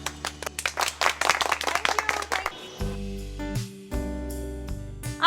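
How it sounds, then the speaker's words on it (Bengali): An audience claps in a burst of quick, uneven hand claps at a stage event for a few seconds, then gives way to musical tones. "হাততালি।"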